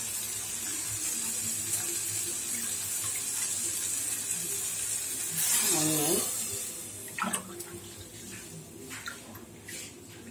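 Chickpea cooking water poured into rice in a pot for biryani, a close splashing stream that swells for a couple of seconds amid quieter kitchen sounds, with a voice talking.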